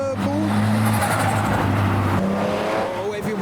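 A BMW drives past at a night car meet, a loud close engine roar with rising and falling tone and a faint tire squeal, with voices in the background.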